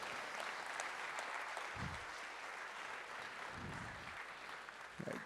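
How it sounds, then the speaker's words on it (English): Audience applause after a presentation at a Climate Salad event in Melbourne, a steady wash of clapping from a room of people, fairly quiet and sustained throughout with a few soft low thumps mixed in. "Round of applause for all those pictures."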